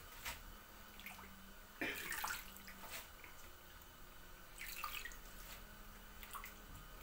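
Water being poured and strained in a basin while washing, with drips and splashes as mud rinses into the water; a couple of louder sloshing bursts stand out over a quiet indoor background.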